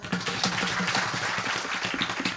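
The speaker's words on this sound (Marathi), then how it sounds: "अभंगाची प्रस्तावनाकडे परत एकदा टाळी वाजवा" Audience at a Marathi kirtan clapping together in a steady, fairly loud burst of applause that continues for the full stretch, with rhythmic hand claps filling the hall.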